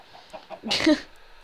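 Chickens cluck in a Minecraft game mod: a few soft, scattered clucks, then a brief louder squawk, heard close and without voices over them.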